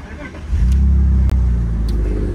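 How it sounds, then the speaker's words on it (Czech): An automatic car starts up: a quiet lead-in, then the engine catches and settles into a loud, close, steady idle rumble with a sharp click partway through. "pojďme to nastartovat."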